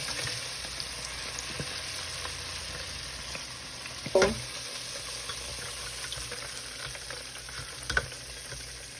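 Continuous hiss and crackle of shrimp and oysters deep frying in oil for New Orleans po'boys, with a few soft clinks of stirring, one louder knock midway.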